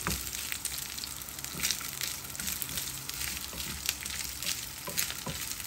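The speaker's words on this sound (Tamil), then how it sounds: "நம்ம தேங்காய் கொஞ்சம் வறுத்துக்கலாம்." Grated coconut roasting in a pan crackles with a steady, close sizzle, with occasional scraping stir sounds over the continuous frying hiss.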